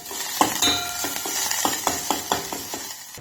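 Ginger and garlic frying in ghee for soup, stirred with a spoon in a pan: a steady sizzle under a series of distinct clinks and scrapes roughly every third of a second, close and fairly soft.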